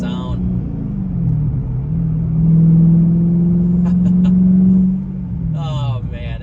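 A Dodge Challenger SRT8 engine swells into a loud, steady revving roar during a launch, holding for a couple of seconds before dropping off, with people talking briefly before and after.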